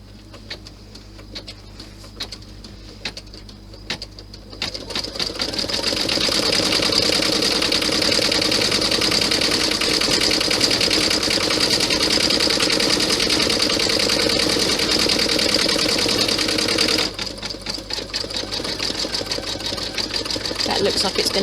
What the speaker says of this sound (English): now it's going to stitch out the buckle part itself